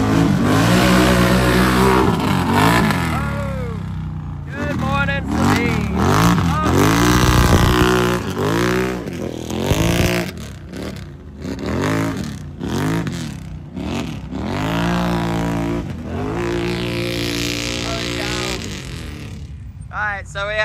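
An off-road vehicle at a mud nationals event revs hard in repeated surging bursts as it climbs out of a mud pit, the loud engine rising and falling for the whole stretch while crowd voices and shouting run underneath.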